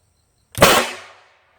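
A single sharp blast from an electric air cannon firing a golf ball at 300 psi: an abrupt loud pop with a broad burst that trails off over about half a second, with no voices.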